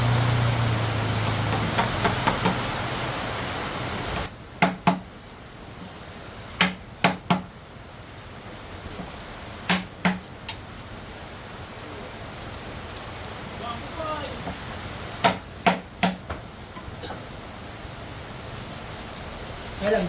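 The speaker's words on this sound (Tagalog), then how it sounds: "Wala na yung ulan. Lumipas na yung unos." Rain falling outdoors behind a house, a steady broadband hiss of moderate loudness running through most of the clip, broken by several sharp nearby knocks and clicks, with faint voices underneath.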